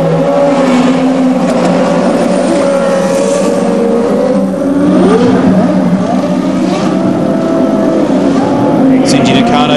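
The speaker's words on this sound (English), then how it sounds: "There's cars coming into the pit now." CART race cars rev and whine through the pit lane at the 2002 Surfers Paradise street race, their engines droning and pitching up and down under continuous race commentary.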